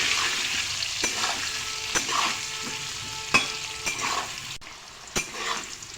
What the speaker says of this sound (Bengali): প্রথমে সামান্য নুন আর হলুদ দিয়ে আলুগুলো ভেজে নিচ্ছি।